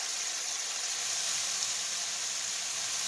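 Chicken fried rice sizzling in a hot pan, a dense steady hiss with a faint steamy edge, close and unbroken, no speech.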